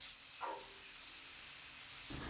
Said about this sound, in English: Spray the cleaner into a clean, soft, colour-fast cloth or paper tissue